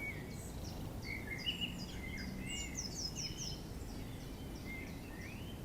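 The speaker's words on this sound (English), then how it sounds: "Lovely bird song." Small birds singing beside a fishing lake in spring, a string of high twittering chirps and warbles at a distance over a low steady background rumble, faint and unhurried.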